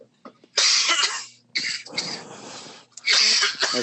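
Three harsh, loud coughs up close, each a rough burst separated by brief pauses, with no talking.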